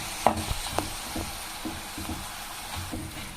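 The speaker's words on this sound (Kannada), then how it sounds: "ಬೆಂಡೆಕಾಯಿ ಎಲ್ಲ ಮಿಕ್ಸ್ ಮಾಡಿರೋದನ್ನ ಎಣ್ಣೆಗೆ ಹಾಕ್ತಾ ಇದ್ದೀನಿ" Okra (ladies finger) kurkure mixture frying in hot oil over a high flame, a soft, steady sizzle with a few faint clinks and stirring taps near the start.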